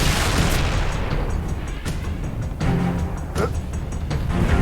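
Rocket launcher fire in Halo 3: ODST, a heavy booming blast with a loud sustained low rumble, followed by further deep thuds and explosive hits close by.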